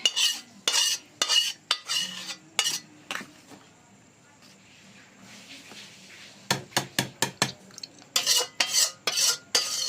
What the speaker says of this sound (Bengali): আমার সিমুইটা তো হয়ে গেছে এবারে আমি ঢেলে নেব